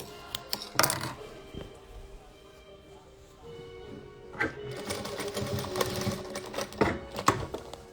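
A sewing machine stitches a seam down the middle of quilted patchwork pieces, running in bursts of rapid mechanical chatter with short pauses and handling clicks between runs.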